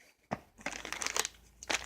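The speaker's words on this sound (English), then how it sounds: "and then I got the SOS sponge in a plastic bag" An SOS soapy steel wool pad in a plastic bag is handled, making a few short crinkling and rustling bursts separated by brief pauses, close and fairly quiet.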